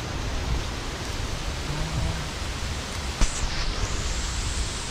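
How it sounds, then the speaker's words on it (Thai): Heavy rain falls steadily in a forest during a storm, a dense, continuous hiss close by with no pauses and one brief sharp knock partway through. "บรรยากาศเดี๋ยวนี้ฝนสิตกลงมาแล้วพี่น้อง"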